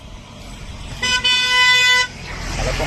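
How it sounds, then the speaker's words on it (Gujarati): A car horn blares once on a road during a pilgrimage walk to Shirdi, a steady loud tone lasting about a second, against background traffic noise. "હોર્ન બહુ મારે"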